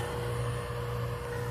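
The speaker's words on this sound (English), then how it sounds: "That's a vacuum pump." A vacuum pump hums steadily on a rooftop during air conditioning repair work, a constant low drone heard close with no voices.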